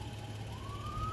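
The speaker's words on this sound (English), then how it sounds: "Oh, that's an ambulance. Okay, guys, I heard a siren" A Bisbee Fire Department ambulance siren wails from a distance in Bisbee, Arizona, a faint rising tone over the low rumble of an engine.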